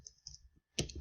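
A few close, light key taps on a computer keyboard while typing into a Google Docs document, followed by a louder, denser flurry of clicks near the end.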